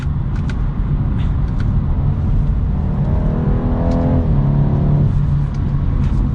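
A 2023 BMW 230i driving through a turn at normal speed, a steady loud engine and road drone from inside the car, with a rising then falling engine note midway.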